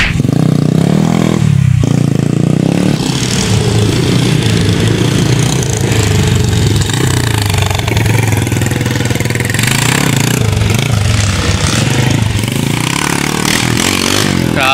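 Several motorcycle engines at a loading point, a loud continuous rough rumble and clatter with revving surges, close and dense throughout without talk.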